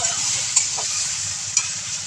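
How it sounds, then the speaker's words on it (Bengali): Cabbage frying in a pan as it is stirred, a steady close sizzle with a couple of brief scraping knocks from the stirring utensil. "বাঁধাকপিটা একটু নাড়িয়ে"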